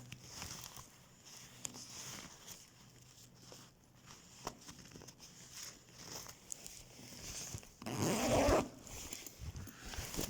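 A small bag pocket is zipped, faint handling and rustle building to one clear, close zip rasp near the end, with light crinkles around it.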